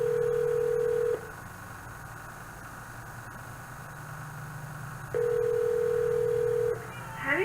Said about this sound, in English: So maybe I'll get Heather on the phone.